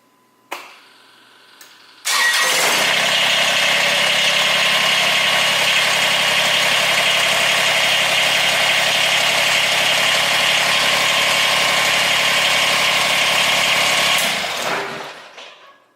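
A Kubota BX2380 compact tractor engine starts after a brief clunk and idles steadily and loudly for about twelve seconds before shutting down and fading.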